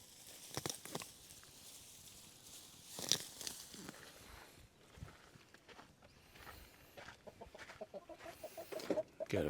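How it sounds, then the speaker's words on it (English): Backyard chickens cluck in soft, scattered bursts, fairly quiet and close, with brief rustling and pecking patter between calls and no talking. "Good morning, chickie chicks."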